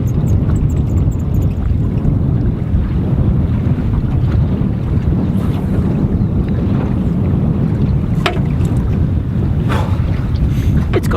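A cold southerly wind blows hard across the sea off Mallacoota, roaring and buffeting the microphone in a loud, continuous rush with no break.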